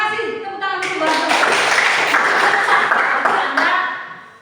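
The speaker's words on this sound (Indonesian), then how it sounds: "Tepuk tangan untuk Bapak" A room full of people applauds a speaker at a lesson, with steady close clapping swelling quickly, holding for a few seconds and then tapering off near the end.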